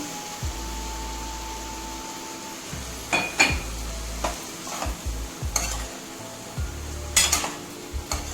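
Cumin seeds and four dried red chillies sizzle in hot oil for a cluster bean curry, with a steady close crackle broken by scraping spatula strokes and a few metal clinks against the pan; no voices.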